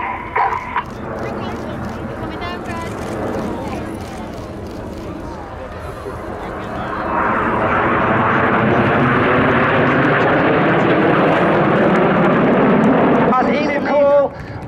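Red Arrows RAF aerobatic jets in formation at an airshow, a steady roar that swells and holds loud as the formation pulls up, with a commentator talking over it throughout.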